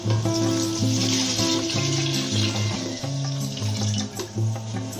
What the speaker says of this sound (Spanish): vamos a echar el agua.